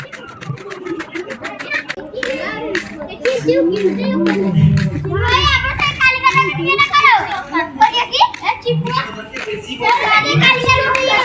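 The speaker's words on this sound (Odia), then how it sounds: "ଛୁଆ ମାନେ ଖେଳୁଛନ୍ତି ଦେଖନ୍ତୁ।" Children play and shout nearby at a home in Odisha, their high voices chattering and calling continuously over a busy mix, with some hand claps and adult talk underneath.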